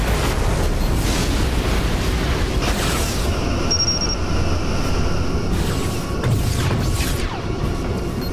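A Klingon vessel blows up in Star Trek Legacy, a heavy rumbling boom that swells and rolls on for several seconds, loud and close, with crashing debris-like bursts layered over a continuous low roar.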